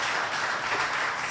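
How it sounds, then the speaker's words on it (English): Audience applause rises at a Community Resilience Regional Conference opening ceremony held by the Department of Emergency Management, a dense, steady wash of many hands clapping for just over a second with no break. "I think we can have a better round of applause for that"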